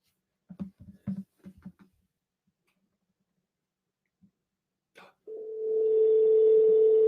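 Telephone call tone sounds as a steady continuous beep that starts after a few soft clicks and brief murmurs, holding loud and unbroken to the end.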